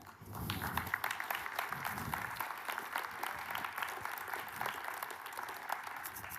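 A conference audience keeps applauding for Roselyne, continuous, even clapping from many hands that fills the whole stretch, with no talk on top.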